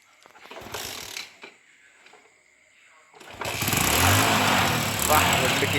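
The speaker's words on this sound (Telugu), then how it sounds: "ఇక్కడ స్టార్ట్ చేసిండే బండి మా వాడు" Motorbike kicked and starting after running low on petrol: scattered mechanical clicks and brief sputters, then the engine catches at about three seconds and runs on as a steady, fairly loud rumble.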